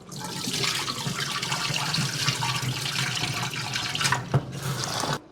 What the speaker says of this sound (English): So right here I'm getting my rice washed, as you can see.